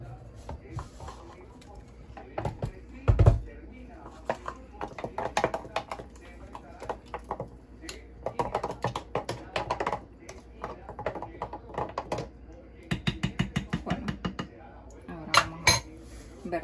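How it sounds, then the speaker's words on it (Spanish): Coconut popsicle mixture being beaten by hand in a bowl, with quick rhythmic clattering taps in repeated bursts and pauses, close and moderately loud, as a person talks intermittently. "Vamos a batir."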